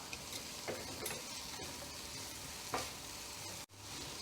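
Vegetables get stirred in a hot pan for Kerala-style spicy Maggi noodles, giving a steady sizzle with a few sharp scraping clacks of the spoon and a brief dropout near the end, with no voices.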